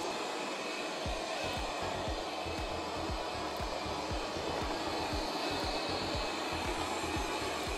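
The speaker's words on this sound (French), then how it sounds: "Notre aspirateur est parti en mode spirale, donc il va faire toute la pièce au fur et à mesure en rond." An M203 robot vacuum cleaner with 3000Pa suction and an automatic emptying station runs in spiral mode indoors, giving a steady loud whir with regular soft thumps and clicks as it turns. No one speaks.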